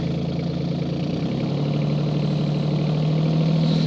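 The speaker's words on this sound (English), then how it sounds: "Hopefully you can hear me over the tractor. I will keep the RPM quite low here." A tractor engine runs steadily at low RPM, a close, constant idling drone with a low hum that holds without pause for the whole stretch.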